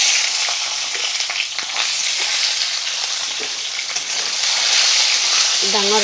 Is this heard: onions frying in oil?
yes